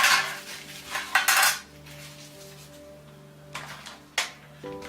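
A spoon and other cutlery set down and handled on a tray, giving several bright metallic clinks and clatters in short bursts, with quieter gaps and a steady hum underneath.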